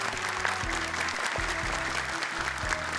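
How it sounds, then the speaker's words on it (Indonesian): Audience clapping for young Quran memorizers on the Hafiz Indonesia 2025 show, a steady crowd applause over a low, pulsing music bed. "Tepuk tangan dong untuk mereka."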